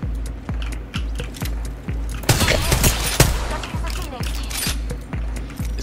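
Rapid bursts of automatic gunfire in the battle royale game Apex Legends, rhythmic repeated shots with a denser flurry mid-clip, loud and close.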